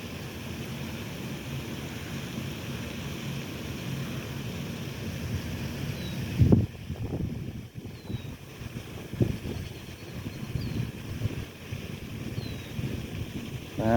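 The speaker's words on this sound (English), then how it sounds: "The wind's blowing it right now is what's happening." Wind buffets the microphone outdoors while fishing in the rain: a steady low roar with a few louder gusts and bumps, and no talk.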